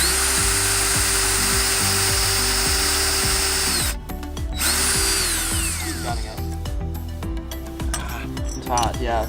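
A close, loud power drill runs steadily, then stops and restarts in shorter bursts, with clinking and a faint voice near the end.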